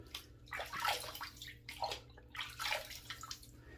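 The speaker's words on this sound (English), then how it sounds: "let me just splash some water on my face" Water splashed onto a face by hand before a shave: three soft sloshing splashes about a second apart, with faint trickling in between, close and quiet, no talking.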